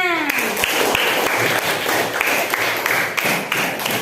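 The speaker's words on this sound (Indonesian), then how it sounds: "Kelompok 3, tepuk tangannya." A fourth-grade classroom claps for a student group, a lively patter of many small hands with a few thumps and taps, continuous and fairly close, with children's voices mixed in.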